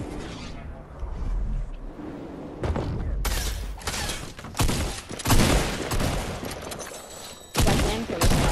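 Loud, rapid volleys of weapon fire in the Fortnite video game come in dense, overlapping bursts that start and stop abruptly.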